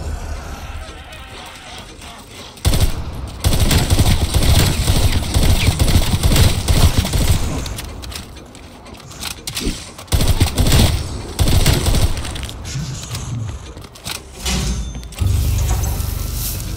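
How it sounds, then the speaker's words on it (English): Rifle gunfire in Black Ops Cold War Zombies on the Firebase Z map during a solo Cranked match: loud, dense bursts of rapid shots come in long stretches, with short lulls between them and other game sounds layered underneath. "I'll get this done with a sack rifle"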